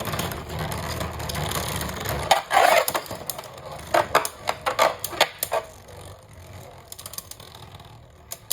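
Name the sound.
Beyblade tops Achilles and Fafnir launched and clashing in stadium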